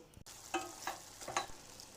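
Cumin and mustard seeds crackling in hot oil with green chillies and curry leaves, a few sharp pops over a soft, quiet sizzle, for an oyster mushroom curry.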